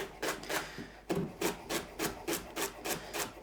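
A knife slices through leeks on a board in a steady run of about a dozen crisp, rasping strokes, close and fairly loud with no voices.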